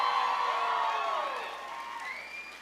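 Crowd at a political rally in Concord, New Hampshire cheering and whooping loudly, a dense sustained roar that slowly fades over a couple of seconds.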